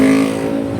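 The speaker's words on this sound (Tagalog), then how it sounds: "Nag-slow down na mga sakyanan no kay nag-traffic na gid sila no." Nearby car engine humming steadily in road traffic near a busy city street, a close, loud tonal drone that eases slightly in pitch as the vehicle slows.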